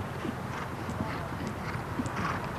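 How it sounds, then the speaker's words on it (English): A 14-year-old stallion's hooves thud in quick, steady clip-clop rhythm across a show jumping arena under continuous commentary and crowd ambience. "Marc, he's a very effective rider, holds his horse strongly between his hands and legs"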